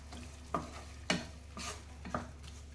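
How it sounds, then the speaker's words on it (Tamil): Thick soybean gravy simmering in a pan with added water: soft broadband bubbling and stirring bursts recur roughly every half second over a steady low hiss, close and fairly quiet, with no talking. "ஒரு 5 நிமிஷம் கொதிச்சா போதும்."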